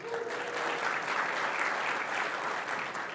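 An audience at a programming-languages talk breaks into sustained applause, a steady, even roar of clapping with no pause throughout.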